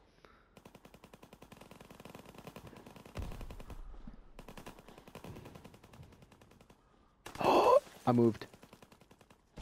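Rapid automatic gunfire in a WWII-themed prop hunt game, a long, evenly pulsing stream of quick shots at moderate distance with a couple of louder thumps, while players talk briefly near the end.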